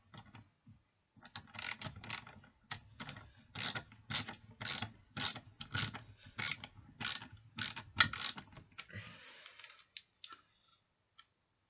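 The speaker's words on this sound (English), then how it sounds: "I'm using a ratchet screwdriver because I prefer these easier." A ratchet screwdriver tightens screws on an S65 smoke detector, a close series of about a dozen rhythmic clicking ratchet strokes in quick succession, then a few faint final clicks.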